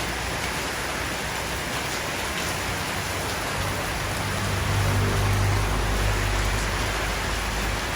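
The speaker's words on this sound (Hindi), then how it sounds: "लो भाई, अभी तो बेहतरीन बारिश हो रहा है।" Heavy rain pours steadily over a Thai home, a dense continuous hiss that swells louder about halfway through as a low rumble joins in, with no voices.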